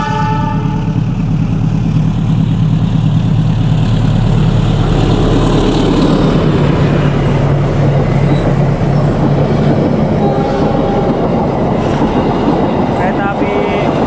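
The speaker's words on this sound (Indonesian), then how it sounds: "Kereta api Argo Parayangan guys, Gambir Bandung" The Argo Parahyangan passenger train, with stainless steel carriages, rushes past close by on the Gambir to Bandung line, a loud continuous rumble and clatter of wheels that runs throughout, with voices faintly underneath.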